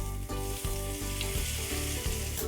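Loud, steady sizzle and crackle of hot oil poured over a marinade for veg tandoori momos, with a few soft stirring knocks, close up and continuous with no talking.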